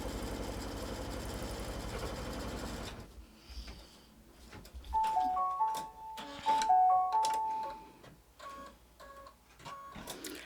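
A sewing machine stitches a quilt block in an embroidery hoop, starting with a few seconds of steady whirring, then giving way to quieter, uneven clicks and ticking with short tonal beeps.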